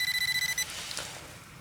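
A Deteknix Wader (Xpointer Pro) waterproof metal detector pinpointer, set to sound and vibrate together, gives a quick run of about eight evenly spaced, bright electronic beeps up close, then cuts off and leaves quiet room hiss.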